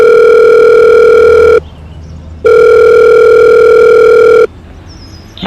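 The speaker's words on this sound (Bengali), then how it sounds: "দাঁড়ান, একটা ফোন করি ওনাকে।" A loud, steady telephone dial tone sounds in two long bursts separated by a short silence as a call is placed, with no talking.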